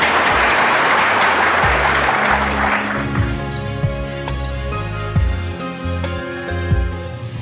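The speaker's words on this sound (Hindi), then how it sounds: "ये तालियां बजाते हो ठीक है" An audience at a spiritual discourse gathering claps loudly together for about three seconds, then the applause fades into sustained musical tones.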